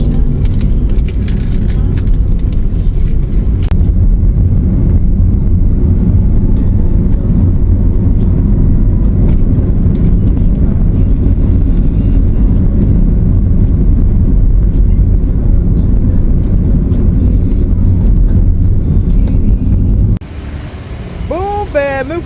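Continuous engine and road rumble inside a car riding through Bali with luggage aboard, steady and close for most of the ride before dropping to a quieter interior with faint voices near the end.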